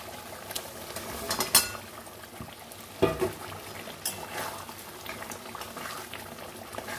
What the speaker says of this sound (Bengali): এই ঝোলটা তো ফুটে গেছে, কষে গেছে মশলাটা